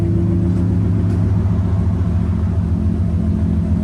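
A 2000-2005 Ford Excursion 5.4L V8 fitted with a Flowmaster 50 Series exhaust is given gas, producing a loud, deep, sustained engine rumble heard close and continuously.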